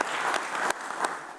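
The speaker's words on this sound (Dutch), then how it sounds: "Een groot applaus voor deze meneer" An audience at an architecture talk gives a short burst of applause, a fairly quiet, dense patter of clapping with a few sharper claps standing out.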